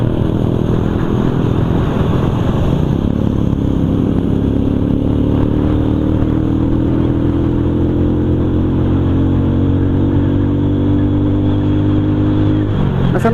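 A motorcycle with an aftermarket exhaust drones loud and close, its engine note holding steady, then climbing slightly in pitch as the throttle opens toward the end.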